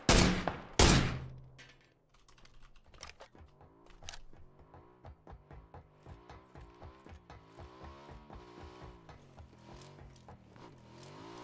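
Two loud, sharp gunshots crack in quick succession at the start of a PUBG match, then the action continues more quietly with softer clatter.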